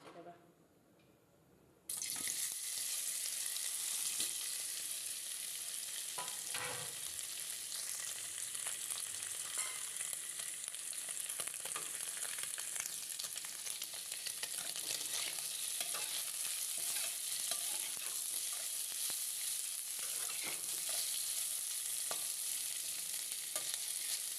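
Paneer pieces shallow-frying in hot oil sizzle with a steady, dense crackle that begins abruptly and continues for over twenty seconds.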